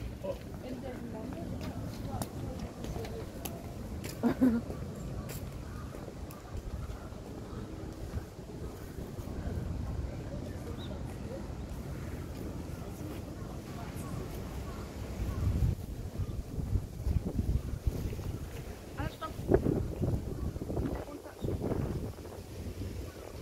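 Wind blows outdoors in Ueno Park, a steady rough rumble of gusts buffeting the microphone for the whole stretch, swelling louder near the end, with people talking over it.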